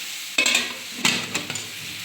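Curry leaves and tomato are sautéed in a pan, giving a close sizzle with a few stirring scrapes and taps, with no talking.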